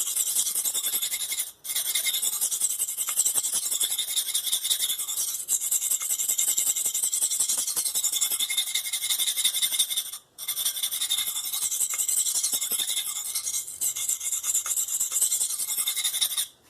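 A knife blade is stroked steadily across a 240 grit sharpening stone, making a continuous gritty rasping with two brief pauses, close and fairly loud with no talking.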